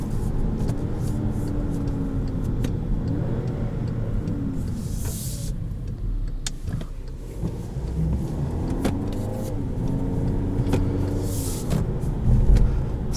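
A 2020 Volkswagen Passat SEL's engine holds a steady, broad drone from inside the cabin while the driver floors the throttle past the kick-down notch, with tire and road rumble underneath and no talk.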